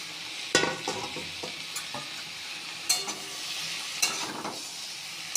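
Mourola fish frying in a pan with turmeric and Kashmiri chili powder, a steady sizzle broken by several sharp scraping stirs and clatters, close and fairly loud, with no talking.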